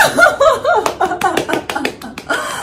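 A short round of applause in an indoor setting, with a burst of quick, close hand claps and taps and some light laughter mixed in.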